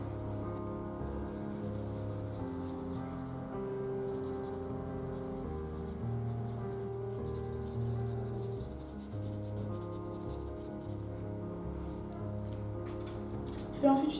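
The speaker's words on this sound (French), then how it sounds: "Je vais également colorier toutes les parties violettes." A violet Touch Cool marker, shade 81, colors paper in a steady soft scratchy rubbing that runs the whole time, close and quiet, with a faint background hum.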